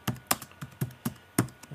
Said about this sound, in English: I'm just hitting Apple R on my keyboard there to rename